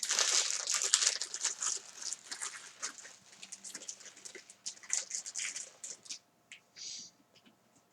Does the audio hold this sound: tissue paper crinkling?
yes